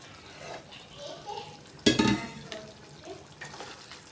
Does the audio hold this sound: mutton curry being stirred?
yes